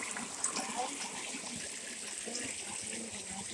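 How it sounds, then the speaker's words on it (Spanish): Water streams steadily from a natural spring at its source, a continuous close gushing and trickling wash with a voice speaking over it. "miren cómo está bajando aquí el agua"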